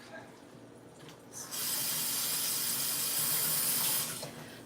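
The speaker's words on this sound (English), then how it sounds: "I'm gonna rinse this piece off." A kitchen faucet runs as a piece of food is rinsed. Faint background noise leads into a strong, steady close-up rush of water for about two and a half seconds before it cuts off.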